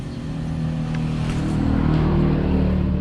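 A Yamaha YTX 125 motorcycle with a CDI problem idles nearby after its starter is used. A steady low engine rumble builds slightly in loudness, and no one talks over it.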